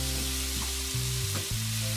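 Vegetables for fried rice stir-fry in a pan with a continuous, close sizzle, while steady low tones run underneath.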